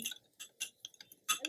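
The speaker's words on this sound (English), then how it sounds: "now I will stir it" A spoon clinks against a glass of hot water while crystal solution is stirred, a sparse series of light bright ticks and taps, close and quiet.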